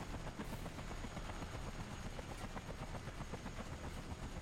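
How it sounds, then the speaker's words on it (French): Steady, loud rotor-like drone with rapid rhythmic chopping from a helicopter during a boss fight in the Disney's Volt video game, continuous throughout with no talk. "nouvel affrontement contre un hélicoptère"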